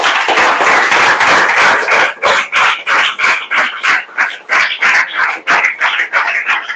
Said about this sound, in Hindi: क्लास ताली बजाकर शुरू करो।